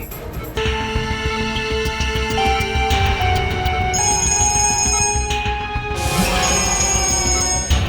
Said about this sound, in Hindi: डीसीपी चित्रोले साहब का बार बार फोन आ रहा है।